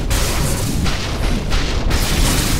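Heavy booming impacts from the Dota 2 video game as the Dire bottom tower comes under attack, a dense, loud rumble of blasts and bursts layered over one another with no pause.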